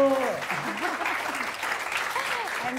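Studio audience clapping for a guest at the end of an interview, a dense burst of applause throughout, with brief talk over it.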